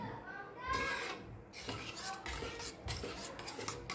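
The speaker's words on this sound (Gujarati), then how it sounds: "હળદર અને ધાણા જીરું એડ કરીશું. સરસ ફરીથી મિક્સ કરી લઈએ." Turmeric and ground coriander-cumin are mixed into gram flour in a pan, giving continuous scraping and clinking of a utensil against the cookware, steady and close, with no talking.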